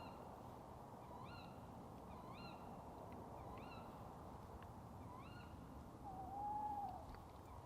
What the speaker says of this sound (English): That's the owls I was saying about.